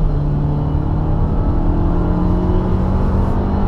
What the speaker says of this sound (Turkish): Selim, bir de 0-100 deneyelim mi?